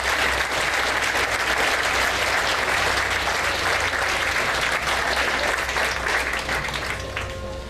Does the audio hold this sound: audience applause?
yes